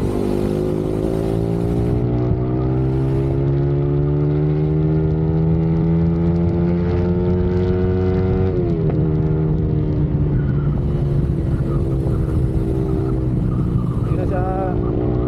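A remapped engine, apparently a Sniper 155 motorcycle, revs hard and climbs steadily in pitch under sustained throttle, loud and close, then dips and climbs again with a rough, strained note.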